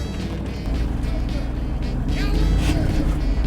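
Off-road vehicle crawling along the rocky Rubicon Trail, a low steady engine rumble that swells toward the end, close by, with people talking over it.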